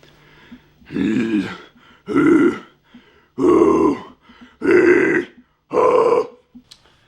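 Five low, gravelly dry metal vocal screams in a row, each about a second long with short pauses between, loud and close.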